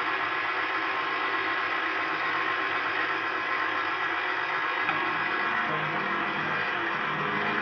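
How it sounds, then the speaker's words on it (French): A stand mixer runs steadily while mixing softened butter into madeleine batter, a loud continuous motor whir with beater churning, its pitch shifting slightly partway as the speed is raised; no talking. "Et là, vous augmentez la vitesse donc, de votre robot."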